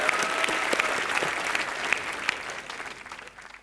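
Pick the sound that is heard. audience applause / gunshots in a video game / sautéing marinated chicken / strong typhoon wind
audience applause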